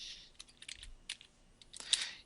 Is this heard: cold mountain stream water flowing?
no